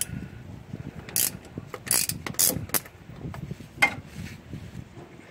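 Ratcheting clicks and metallic mechanism noises in short bursts as an 18 mm socket loosens the front differential fill plug on a GM truck, close by with no talk.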